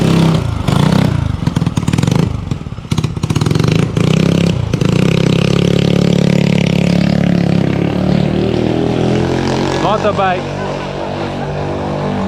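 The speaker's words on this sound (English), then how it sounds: "Cool motorbike." A low-profile kids' motorbike engine runs close by, a loud, steady drone with shifting pitch and some rattling clatter early on, staying prominent from start to finish.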